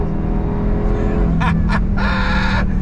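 A 2024 Dodge Durango SRT Hellcat accelerates hard on asphalt, its massive tires clawing and scrubbing in two rough broadband bursts over a steady, loud engine drone.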